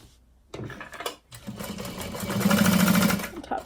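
A sewing machine top stitching a handbag at a long stitch length runs in a steady, fast mechanical whir that builds louder toward the end, with a brief pause near the start.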